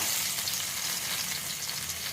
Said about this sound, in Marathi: आता उरलेल्या तेलामध्ये मी हा लसूण घालते आहे फोडणीला